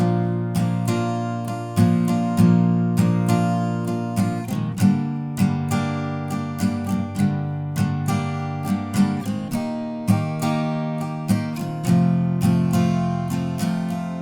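Guitar chords strummed in a steady rhythmic pattern for a bridge, each strum a sharp attack that rings out, changing chords every few seconds, close and unaccompanied.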